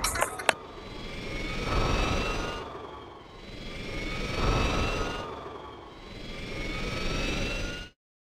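Video game bomber aircraft passing overhead in repeating waves, a roaring jet drone that swells and fades three times, steady and fairly loud, after a brief clatter at the start, with no voices.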